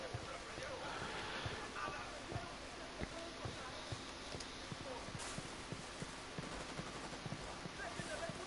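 Gunfire in the video game Ghost Recon Wildlands, a faint string of rapid shots crackling in the background under a constant low din, with talk going on over it.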